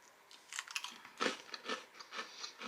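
Chewing on a light, crisp almond biscotti, with a series of soft close crunches and bites spaced irregularly through a quiet room, one louder crunch standing out midway.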